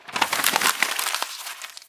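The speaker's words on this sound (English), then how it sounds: "crumpled paper," Crumpled paper sound effect: a dense burst of crackly, rustling crinkles lasting about two seconds, close and fairly loud, with no voices.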